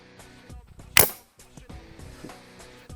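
A single sharp hunting rifle shot outdoors from a blind, loud and close, cracking once with a short decay amid quiet low background rustle.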